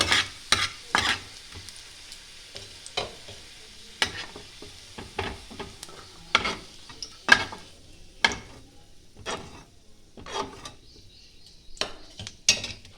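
Garlic and onion frying together in a pan until lightly browned, a quiet steady sizzle broken by frequent clicks and scrapes of a spatula stirring, close by and without talk.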